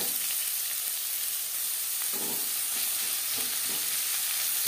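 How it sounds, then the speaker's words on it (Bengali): Onions fry in a pan with a constant hissing sizzle, while a spatula scrapes and pushes them in a few soft strokes midway through; no one speaks. "পেঁয়াজ লালচে করে ভেজে নেব।"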